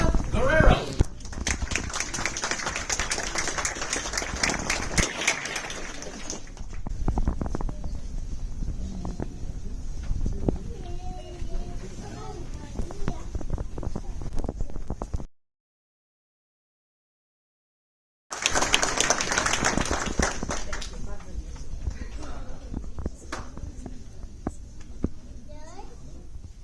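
An audience applauds at a U.S. citizenship ceremony, with sustained dense clapping before and after a short silent gap, mixed with voices and children's chatter.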